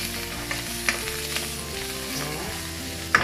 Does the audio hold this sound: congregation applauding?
no